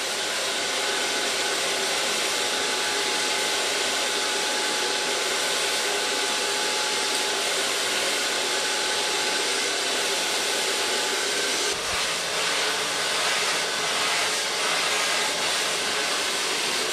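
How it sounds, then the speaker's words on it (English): A Kione hair blow dryer runs steadily and loudly close by for the whole stretch, a constant whooshing whine with a brief shift in tone near the end and no voices. "Take my Kione blow dryer."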